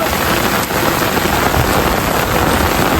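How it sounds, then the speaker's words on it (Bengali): Heavy rain pours down at night in the Sundarbans, a dense, steady, loud hiss of drops drumming on surfaces with no break. "দেখুন বন্ধুরা, বৃষ্টি হচ্ছে খালি।"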